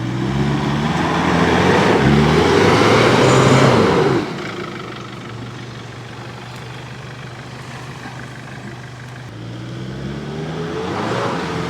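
A vehicle engine revs hard for a few seconds as mud-caked tires spin without traction, then drops to a lower steady drone before climbing again near the end, loud and close.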